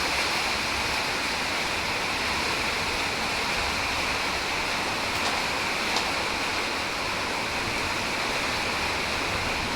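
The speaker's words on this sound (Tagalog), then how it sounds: "Yan umuulan." Rain falls steadily, a dense broadband hiss like pouring water that stays constant and fairly loud throughout, with no voices.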